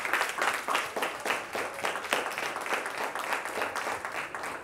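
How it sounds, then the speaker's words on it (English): Applause from an audience at a youth empowerment conference, a steady wash of many hands clapping that holds at a fairly even level throughout, with no talk over it. "clap it up again for Wally"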